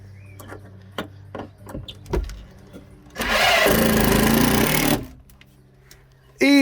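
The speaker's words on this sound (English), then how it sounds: "Push harder against the drill." A power drill drives a screw through a bracket into a campervan wall in one sustained, loud whirring burst of about two seconds, preceded by scattered knocks and movement.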